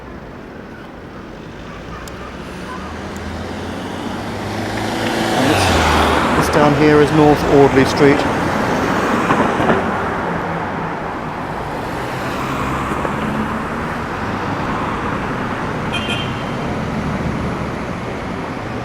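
Road traffic on London's Oxford Street near North Audley Street, a steady city rumble of passing cars that swells midway as vehicles go by, heard beneath someone talking close to the microphone.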